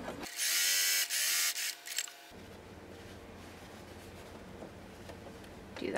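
A sewing machine stitching a seam allowance about a quarter inch in, running loud and steady for a couple of seconds, then a quieter mechanical hum continuing afterward.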